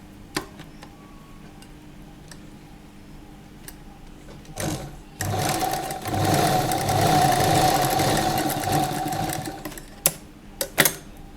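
A sewing machine stitches a folded strip of lehenga fabric, starting with a couple of short bursts and then running in a steady, close whir for about five seconds before stopping with a few quick clicks.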